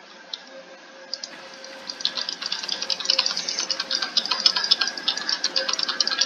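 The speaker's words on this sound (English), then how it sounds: "Just fill it with water. Get some water in there." Water pours from buckets in the Minecraft video game, a steady splashing trickle that swells after the first couple of seconds and continues with a dense, rattling texture, with no talk over it.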